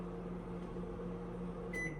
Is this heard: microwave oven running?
yes